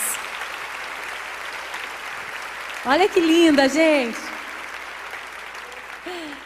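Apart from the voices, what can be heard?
audience applause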